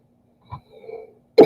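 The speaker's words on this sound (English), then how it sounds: "Sorry, I'm coughing, y'all." A single person coughs: a short cough burst near the start, a faint rasping exhale, then a loud, sharp cough at the end, close to the microphone with no talking.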